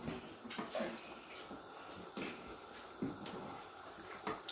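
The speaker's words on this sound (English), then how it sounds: "The next thing I have to pour the fish that I removed because the soup is already done." Fried fish tipped from a bowl into a pot of finished oil-free egusi soup, giving wet, splashy pours and soft clatter in a few bursts against steady kitchen background noise, with no talking.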